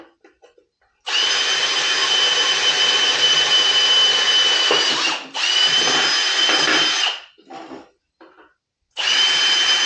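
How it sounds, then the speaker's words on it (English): A power drill fitted with a larger bit whines loudly in long steady bursts, one run of about four seconds, a shorter one, a brief blip, then another start, with quiet gaps between. "Bigger drill bit."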